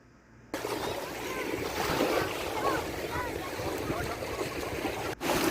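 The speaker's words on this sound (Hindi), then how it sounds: "पानी का जो अपना एक साउंड होता है ना" Sea waves wash steadily at Uqair Beach in Saudi Arabia, a continuous surf roar mixed with wind buffeting the microphone.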